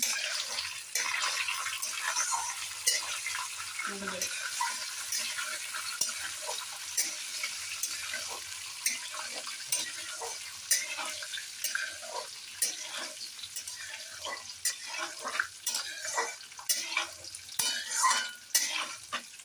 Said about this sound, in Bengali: তো এটাকে আমাদের ভাজতে হবে।